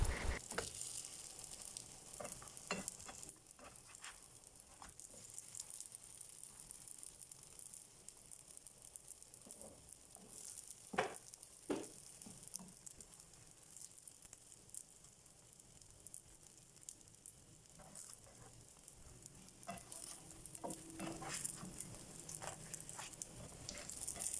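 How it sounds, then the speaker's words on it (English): Steady soft sizzling of a veggie roti wrap frying in a pan on medium heat, with occasional crackles and light scraping as pieces are turned. "she's going to keep turning them a little bit in this frying pan on medium heat"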